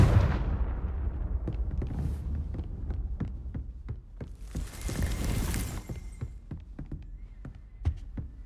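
A Confringo spell bursts in Hogwarts Legacy, a loud explosive whoosh swelling midway amid a string of sharp percussive cracks and a low throbbing hum.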